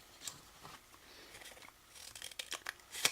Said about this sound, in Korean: 이것을 다시 반을 접어서 중심선까지 이렇게 잘라줍니다